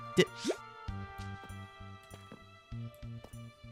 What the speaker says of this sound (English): That's a pufferfish sound.